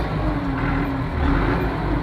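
Tractor engine running and revving, a steady, close diesel drone with a slight rise in intensity partway through, no talk over it.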